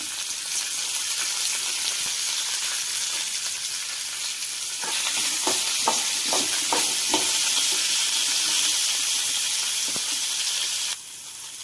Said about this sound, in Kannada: ಒಂದು 2 ಸ್ಪೂನ್ ಎಣ್ಣೆ ಹಾಕೊಂಡು ಶಾಲೋ ಫ್ರೈ ಮಾಡ್ಕೋಬೇಕು